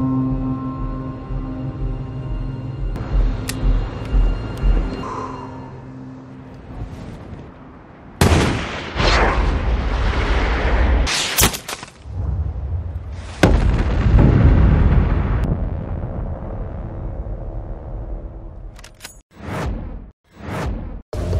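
Gunfire and explosions from the war film American Sniper, with heavy booms, whooshes and sharp shots layered over a dramatic score, loud and dense through the middle and ending in a few isolated blasts.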